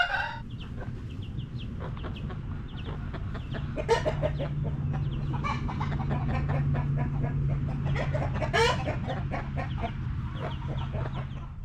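A flock of backyard roosters and hens clucks and chatters continuously, with overlapping close and distant calls and occasional louder bursts over a low steady hum.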